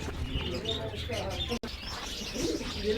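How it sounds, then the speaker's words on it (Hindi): Karbalai pigeons coo softly at a busy Sunday bird market in Quetta, with low throaty calls and faint chirps over crowd murmur and nearby talk. "ये करबलाई कबूतर का पेयर, बहुत साफ पेयर, मेल फीमेल"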